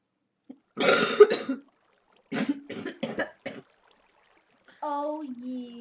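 A person coughing indoors during a Minecraft PC game session, a harsh burst of coughs followed by several shorter coughs in a cluster, close and loud, ending in a brief voiced sound.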